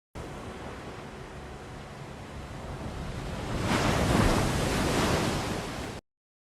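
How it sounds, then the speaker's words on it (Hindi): Ocean waves and surf roll in as a steady, broad wash of water noise that swells louder midway as a wave breaks nearby, alone without any voices. "ये जो इसमें पानी की आवाज़ थी"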